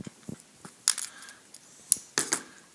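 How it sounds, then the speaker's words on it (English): Excess wire for a soda can Stirling engine is snipped with cutters, a few sharp metallic clicks and snaps spaced irregularly over a quiet background. "I'm going to cut the excess wire"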